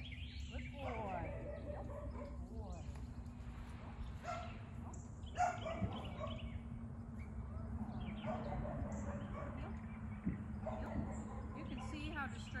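Dogs bark and yip intermittently in the background during leash and place training, mixed with a steady low hum and occasional voices.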